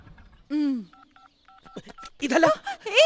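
Telephone keypad tones beep one after another in a Hindi-dubbed South Indian action thriller, a short electronic chime leading into several evenly spaced dialing beeps, followed by people talking.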